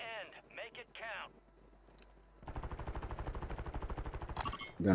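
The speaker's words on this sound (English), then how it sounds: "Gunfire in this building." A sustained burst of rapid automatic gunfire in a video game rattles in a steady rhythm after a speaking voice, loud and close.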